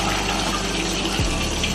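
Rinse water running off washed white rice as it drains in a home kitchen, a steady broadband rush and trickle, close and continuous, with a brief low gurgle near the end.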